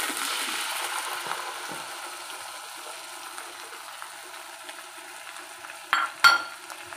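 Coconut milk simmering with boneless milkfish in a pan, a soft steady sizzle and bubbling hiss, fairly faint, with a couple of brief louder clinks or stirring noises near the end.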